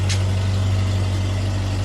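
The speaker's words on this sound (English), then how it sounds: "Actually, I might turn the engine off" A restored 1982 Toyota Hiace campervan engine idles with a steady, low hum, even throughout, close and constant, with a faint brief click at the start.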